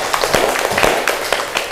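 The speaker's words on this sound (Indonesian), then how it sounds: "Kita tepuk tangan untuk kalian semua." An audience claps for a short stretch at a university teaching-practice event, with loose individual hand claps at an uneven rhythm, close and moderately loud.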